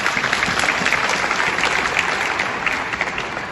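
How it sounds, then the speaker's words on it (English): An audience at an entrepreneurs' showcase event in Swakopmund applauds, a steady, even wash of many hands clapping that holds for several seconds and eases slightly near the end. "let's give Swakopmund a round of applause."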